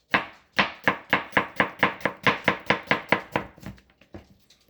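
A knife chopping an onion on a cutting board in a quick, even rhythm of about fifteen crisp close strokes that slow and soften at the end.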